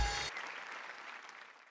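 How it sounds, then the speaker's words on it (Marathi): Audience applause for a comedy sketch on a Marathi stage show, a soft, fading patter of clapping after a brief loud opening burst. "वा वा वा जोरदार टाळ्या"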